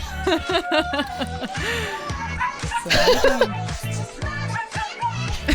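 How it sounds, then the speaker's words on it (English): A dog whines and yelps in short bursts close by, mixed with people talking and laughing over it throughout. "My dog is crying."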